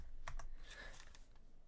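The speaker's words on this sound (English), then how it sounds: "some free ASMR, keyboard ASMR." Computer keyboard typing offered as keyboard ASMR: a few quick, close clicky keystrokes at the start, then a softer, trailing patter of taps.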